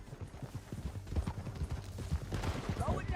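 Horse hooves in Red Dead Redemption 2 pound in a quick, steady galloping rhythm close by, with faint distant gunshots and muffled shouting mixed in.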